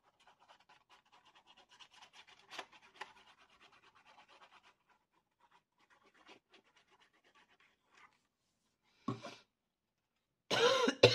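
A person coughs twice near the microphone, one short cough and then a longer, harsher one. Before that come quiet scratching and rubbing sounds from paper-craft work on a baby photo album.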